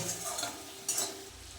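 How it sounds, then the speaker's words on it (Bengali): Ground cumin and spices frying in a pan as they are stirred, a brief, quiet scraping and soft sizzle with a short burst of louder stirring partway through, no voices. "ভালো করে এটা নাড়িয়ে নেব মশলাটা একটু ভাজা ভাজা হলে"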